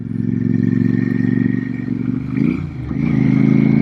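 A belt-drive Royal Enfield Super Meteor 650 with a six-speed gearbox drones steadily while riding, its engine note dipping briefly mid-way as a gear is shifted, then pulling on.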